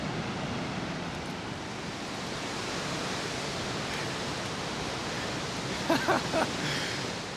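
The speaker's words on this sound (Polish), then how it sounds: "Czuję, jak ten wodospad chlapie" A waterfall at a river confluence in snowy Åmotan in mid-May pours with a steady, dense roar of rushing, splashing water, close and continuous, with no voices.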